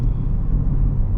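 Honda Civic Type R FL5 driving in individual mode, a low steady engine and road rumble heard from inside the cabin, loud and continuous.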